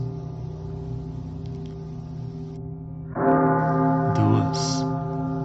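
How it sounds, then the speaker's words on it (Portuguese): A great temple bell tolls at midnight. Partway through, a loud, deep stroke rings out over a sustained low drone, and its heavy overtones linger and fade slowly. "ao soar da meia-noite, o grande sino"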